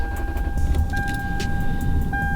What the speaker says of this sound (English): So when I start the car,